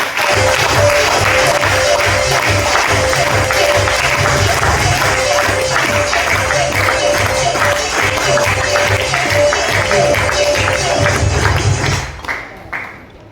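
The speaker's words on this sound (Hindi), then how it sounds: "जोरदार तालियों के साथ" An audience at a Hindi-language award event applauds loudly as technical achievers are welcomed on stage, a dense sustained clapping roar over background music that fades out near the end.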